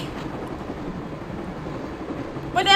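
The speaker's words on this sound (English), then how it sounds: "I'm going to climb on top of the train." A moving train rumbles steadily in Broken Sword: Shadow of the Templars, a low continuous rolling drone with a voice briefly breaking in at the very end.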